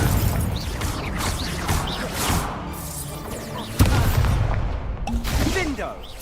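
Incendio fire spell cast in a Hogwarts video game, heard as dense, crackling magical bursts with one sharp impact partway through, set against a busy, continuous backdrop of game effects.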